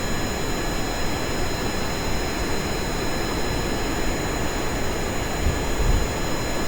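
Jet engines of a paper-airplane-style craft in Kerbal Space Program give a steady, loud broadband roar with high whining tones, continuous and alone.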